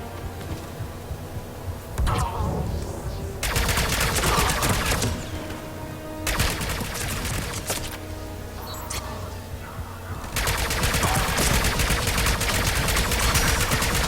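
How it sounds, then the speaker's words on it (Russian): Gunfire in the video game Mass Effect 3 comes in dense rapid bursts separated by brief quieter gaps, loud and sustained like automatic weapons. "Блин, да откуда они стреляют?"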